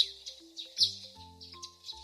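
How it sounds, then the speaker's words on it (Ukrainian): Small birds chirp and tweet in short, bright phrases, fairly close and alone, with brief pauses between calls. "це перші весняні пташки вітають нас своїм чудовими мелодіями"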